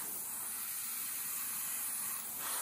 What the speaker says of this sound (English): fire up the compressor and away we go